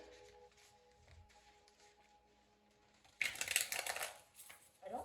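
An oracle card deck is shuffled by hand held low, a dense burst of riffling card flutter starting after a quiet stretch and running about two seconds, then a brief second burst at the end.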